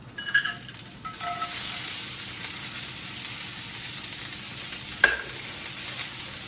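Green beans with almonds frying in a hot pan, a steady loud sizzle with crackling splatter throughout and a sharp clink of a utensil or lid near the end.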